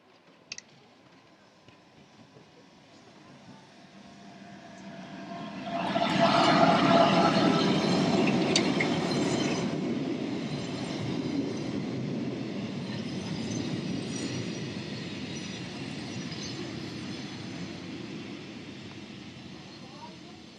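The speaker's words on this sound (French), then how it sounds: "Et la ronde des trains continue inlassablement, toutes les heures," A train on the line through Bergün station toward St. Moritz rolls past, rising from a quiet rumble to a loud, broad roar with wheel squeal, then holding a steady fading clatter.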